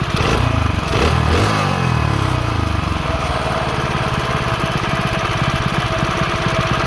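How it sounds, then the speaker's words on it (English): A mini bike's small single-cylinder engine runs steadily with its throttle blipped early on, the carburetor mixture set rich with the needle at its lowest setting; close, loud, buzzy and continuous, revving up briefly before settling into a rough, wet-sounding drone. "Throttle sounds a little wet"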